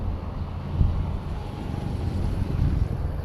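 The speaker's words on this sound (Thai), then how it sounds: "ลมมันพัดอยู่ตลอดเวลานะครับ" Wind blows constantly across an open canal bank during Texas-rig fishing, buffeting the microphone as a low, rumbling roar that swells and eases, with no voices.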